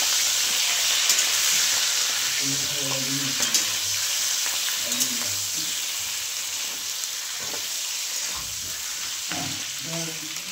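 Bitter gourd fries in oil in a kadhai with a dense, steady sizzle, while a spoon scrapes and taps against the pan at intervals.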